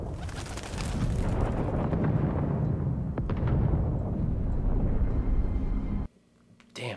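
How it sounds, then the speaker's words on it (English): Loud, dense rumbling blasts and booming roar of video game explosions in Halo fill most of the clip, with a few sharp cracks, then cut off abruptly before a brief final burst. "those are big explosions"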